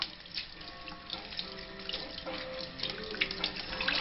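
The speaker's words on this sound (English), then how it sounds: "So we're just going to run them under a little bit of cold water and watch this." Roasted peppers rinsed under cold running tap water at a sink, a steady rushing splash that holds for the whole stretch with no talk.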